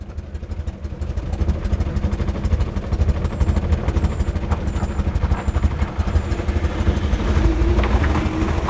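A postman's vehicle making a three-point turn in a driveway, its engine running steadily and close by with mechanical clatter, rising slightly toward the end.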